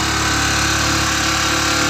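A small motorcycle engine, kick-started with the choke on, runs steadily at a loud, close idle with a constant rumbling drone and no voices.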